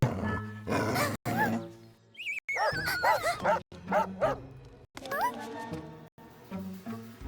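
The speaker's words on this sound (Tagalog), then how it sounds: "Oh, isang galit na aso!" A dog barks and yips repeatedly in short, loud bursts, with whining rising tones between barks.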